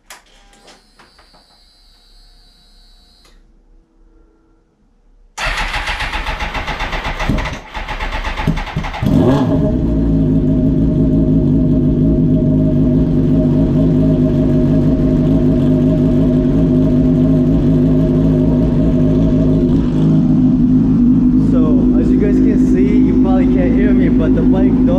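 After several seconds of near silence, a wrecked 2005 Suzuki GSXR1000 with 5,000 miles fires up abruptly. Its engine settles into a loud, steady, close running idle that continues to the end.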